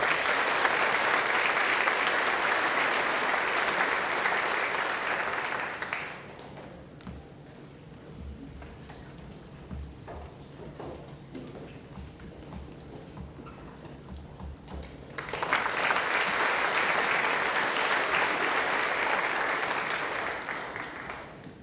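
Graduation audience applause at an academy commencement ceremony, loud sustained clapping that stops abruptly partway through, leaving quieter room noise and scattered shuffling before a second burst of applause resumes.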